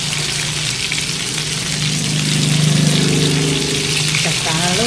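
Fish and minced pork cakes wrapped in lolot leaves frying in a pan, a loud, dense, continuous sizzle with bubbling oil that swells midway, a voice faintly present beneath.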